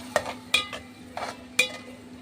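An onion and tomato paste sautéing in a pan for a cauliflower gravy, a few separate spoon scrapes and clinks over a faint low sizzle, close by, with no talking.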